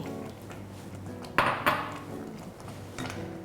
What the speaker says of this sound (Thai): ขั้นตอนนี้ก็คนให้น้ำตาลทรายละลายนะคะ